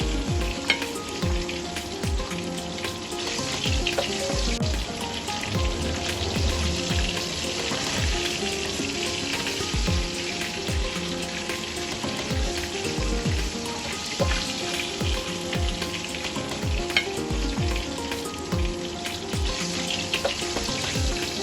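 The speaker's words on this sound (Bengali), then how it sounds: "এবার মাছ ভাজার তেলেই দিয়ে দিই কয়েকটা জিরা ফোড়ন" Cumin seeds temper in hot oil left from frying koi fish, giving a loud, continuous sizzle and crackle with scattered pops, close up and steady throughout, with no talking.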